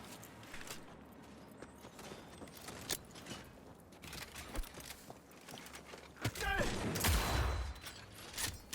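Sniper rifle shots in Cyberpunk 2077 ring out as sharp, scattered single reports over a quiet game backdrop, followed by a louder burst of mechanical noise and a rumbling swell near the end.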